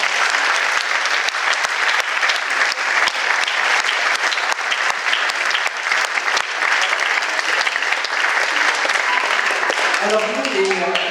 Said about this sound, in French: de chaleureux applaudissements pour les enfants et pour les élèves de cette école